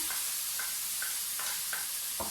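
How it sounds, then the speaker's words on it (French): Tomatoes, onion and garlic sizzle faintly in a frying pan beneath a steady hiss, with a regular series of soft tapping strokes roughly every half second as the mixture is stirred. "Je fais revenir et je découpe les tomates, j'y ajoute l'oignon et l'ail"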